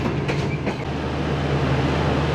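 Shalimar Express passenger train speeding along the line just past Bahawalpur, a steady loud rumble of wheels and carriages heard from on board, with a few brief rattles early on and no talk.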